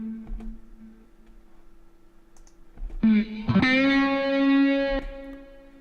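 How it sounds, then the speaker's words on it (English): Guitar played through digital delay and reverb: scattered faint notes, then a strummed chord rings out loud and full, sustaining with a spacious echoing tail before it fades. "you've got the digital delay, which is should be panning left and right"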